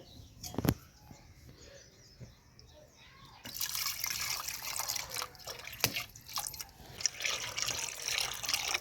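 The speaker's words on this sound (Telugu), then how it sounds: "నీళ్ళు వేస్తాను ఇంకా" Water poured into a cooking pot while making village-style tomato dal, starting with a few drips and splashes, then a steady close pour with clinks in the second half, under soft room noise.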